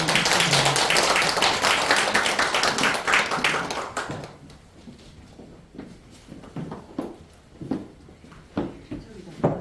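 Applause from an audience at a special poetry lecture, dense and loud for about four seconds, then thinning into scattered claps and taps while a speaker talks.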